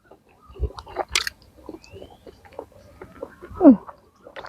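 Someone chews crunchy fermented pangasius fish skin up close, with scattered crisp bites and crunches in quiet surroundings and a little speech in between.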